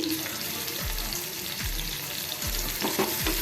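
Curry leaves and ginger sautéing in a pan for a spicy dhaba-style veg dish, a steady close sizzle with a few light stirring scrapes over it.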